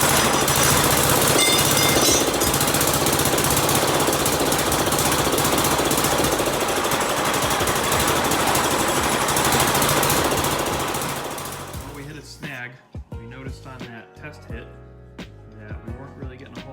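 A turbo diesel golf cart engine fires up and runs with a loud, rapid, hammering knock for about twelve seconds, then cuts off abruptly, leaving scattered clanks and brief voices nearby.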